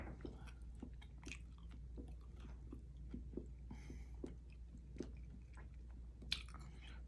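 Healthy fries are chewed close to the mic in soft, irregular bites and squishy mastication over a quiet low hum, with no talking.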